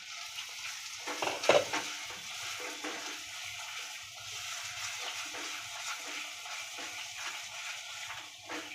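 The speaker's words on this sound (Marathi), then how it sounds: "झाकण ठेवायचं आणि तेल सुटेपर्यंत हा मसाला परतून घ्यायचा." Misal masala sautéed in oil in a pan, a low continuous sizzle with scraping and stirring sounds, a brief louder clatter near the start, then steady gentle frying without speech.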